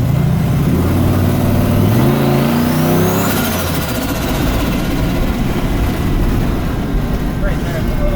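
An LS V8 swapped into a Winnebago motorhome revs up loudly through rising engine pitches, then settles into a steady, rough drone with a faint whine, close by, while voices talk over it.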